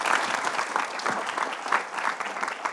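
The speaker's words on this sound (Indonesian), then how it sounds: "Tepuk tangan buat Dewi Persik." A studio audience on a television show applauds a guest with loud, continuous clapping that stays full and even throughout, with no talking over it.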